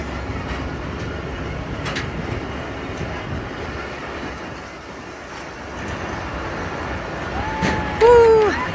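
Express train moving on rails through Balochistan, Pakistan, with a steady rumble and rattle of carriages heard from on board, moderately loud throughout, and a brief wheel squeal near the end.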